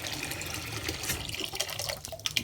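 Water sloshes and trickles in a clogged sink that will not drain after Hurricane Ida in New Orleans, a faint close liquid gurgle with small drips and splashes and no talk.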